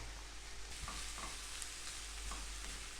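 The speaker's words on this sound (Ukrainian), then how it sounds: "Смажимо нашу зажарку. Закидаємо вершкове масло, розігріваємо гарну пательню. Тепер закидаємо сюди нашу зажарочку." Vegetables sautéing in melted butter in a hot frying pan for pea soup, a steady close sizzle with a few soft stirring scrapes, no talking.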